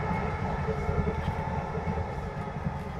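A passenger train arrives at Zduńska Wola station, its carriages rumbling in a steady low drone with faint rhythmic rail clatter, close and continuous without speech.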